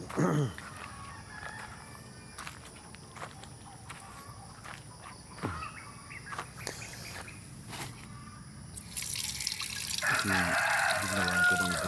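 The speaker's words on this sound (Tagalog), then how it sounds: "Yung mga manok niya pumupunta rito." Chickens and a rooster on a farm, with several crowing calls and clucks scattered over a steady outdoor background, growing busier and louder toward the end; no talking.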